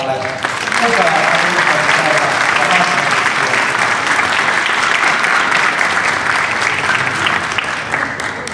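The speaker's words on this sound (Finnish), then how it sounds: "Nyt on aika antaa aplodit koko porukalle." An audience at a Finnish sports club's 80th anniversary celebration applauds a whole group of honorees, sustained loud clapping that swells after a brief opening voice and rolls on evenly for several seconds.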